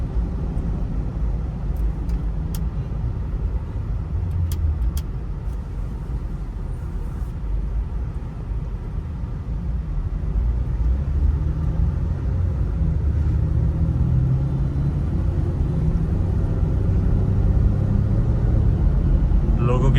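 A car moving slowly through heavy road traffic, a loud steady low rumble of engine and road noise with faint passing vehicles, while someone talks over it.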